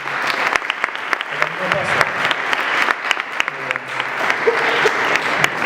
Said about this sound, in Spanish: Un aplauso para Catalina